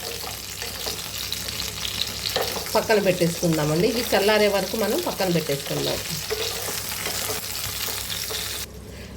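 Stuffed brinjals fry in a pan, giving off a busy, constant sizzle and crackle throughout while someone talks over it.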